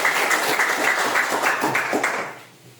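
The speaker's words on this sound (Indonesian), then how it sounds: "tepuk tangan" A classroom group of students claps together in a dense, even burst of applause that holds steady for about two seconds, then fades out quickly.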